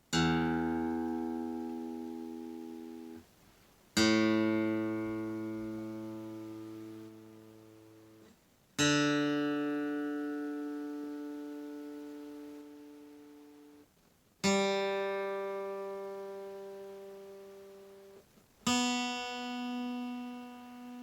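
Guitar chords ring out one at a time, five strums spaced a few seconds apart, each sustaining and slowly fading, close and clear with no talk.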